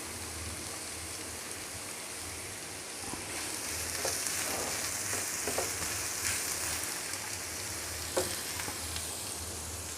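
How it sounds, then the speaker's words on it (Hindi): Chopped onion fries in a pan for a Spanish omelette, a steady close sizzle that rises after a few seconds, with occasional stirring scrapes and no talking. "इसको भी 2 से 3 मिनट के लिए फ्राई करते हैं।"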